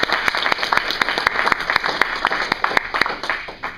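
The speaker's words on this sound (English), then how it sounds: "let's give them a round of applause" An audience applauds after a talk at a conversational hypnosis training event, a steady run of close, crisp claps that holds for a few seconds and then fades slightly at the end.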